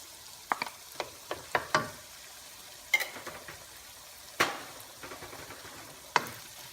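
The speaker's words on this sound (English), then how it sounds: "Let's saute this for the next, I should say, 2 more minutes." Tomatoes and Chinese sausage are stirred in a pan, faint sizzling broken by several sharp scrapes and clacks of a utensil against the pan at irregular intervals, without talk.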